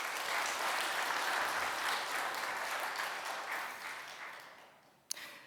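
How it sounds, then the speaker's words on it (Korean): A church congregation standing to give a round of welcoming applause during a Sunday service, steady clapping that slowly tapers off, ending with a single sharp knock. "우리 잠깐 일어나 주시면 환영의 박수 한번 올려드리겠습니다."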